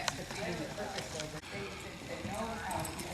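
Hooves of a Tennessee walking horse being bitted up and worked in frame at a training clinic, a brisk clip-clop rhythm heard under steady people talking and ambient arena noise.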